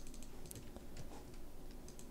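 Faint, quiet computer keyboard typing, soft scattered clicks at an uneven pace over low background hiss.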